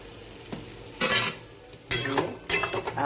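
Green chilies, four small slit ones, stirred in a cooking pan with mango, sounding as three close scraping, sizzling bursts at roughly even intervals over quieter frying, with no talk.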